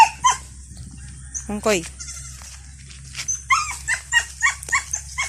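A goat on a farm bleating several times, short wavering calls close by, with a quick burst of bleats near the end; a person speaks briefly between the calls.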